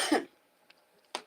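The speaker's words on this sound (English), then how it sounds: "I already said my one big excuse me for all my stoner coughing." A man coughs: one rough cough at the start, then after a near-silent pause two quick harsh coughs close together at the end, near and clear.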